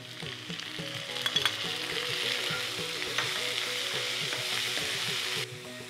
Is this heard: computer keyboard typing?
no